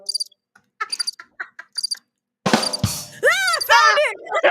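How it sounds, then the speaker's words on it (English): Crickets chirp in short pulsed bursts during a quiet stretch at an indoor haunt, before a person starts talking over the sound. "Why are the crickets still going"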